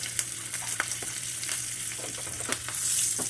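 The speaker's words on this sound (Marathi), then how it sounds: "चांगलं तडतडू लागले की ह्याच्यामध्ये घालायचे भाजीमध्ये" Ghee tempering with two chillies and asafoetida crackles and sizzles in a small pot, with scattered sharp pops over a continuous hiss and a low background hum.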